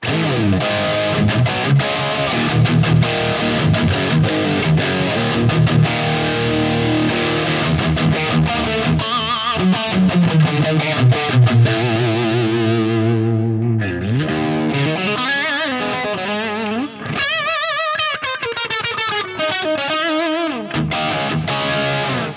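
High-gain distorted electric guitar through a neural amp model in a DIMEHEAD NAM player pedal plays dense, saturated riffs and chords continuously, loud and up front with no talking.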